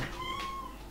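A single Minecraft cat meow, short and rising then held, sounding clearly and close over a quiet game background with no talk.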